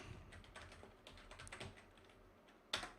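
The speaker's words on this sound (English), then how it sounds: "Let's type in Starbucks" Quiet typing on a computer keyboard, a string of light key clicks in short irregular bursts, ending with one sharper tap.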